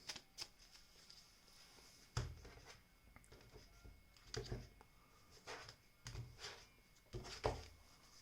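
Tarot cards shuffle faintly and close by in scattered soft riffles and taps, with brief pauses between bursts and a quiet room behind them.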